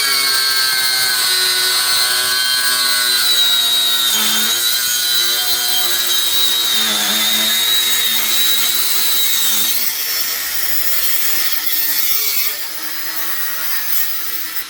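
A Parkside Performance 20V cordless angle grinder, model PPWSA 20 Li A1, runs steadily at high speed with a loud, continuous whine that dips slightly in pitch now and then as it works, with no voices.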